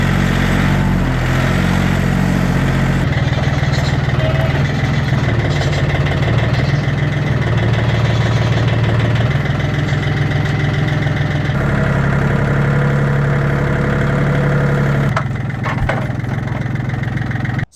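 A farm tractor engine runs steadily at a homestead, a low rumbling idle that holds close and loud throughout with slight shifts in pitch, and no talking over it.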